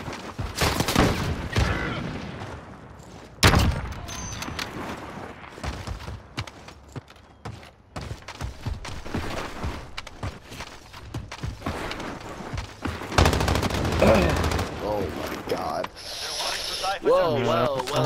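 Bursts of rapid video game gunfire crackle through a busy mix of mechanical clatter and effects, with sharp loud shots standing out amid the action.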